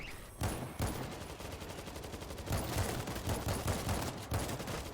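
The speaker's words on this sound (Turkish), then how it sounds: "şuradan vuralım" Rapid automatic gunfire in the zombie shooter World War Z, dense bursts of rounds rattling almost without pause, loud and continuous through the whole stretch.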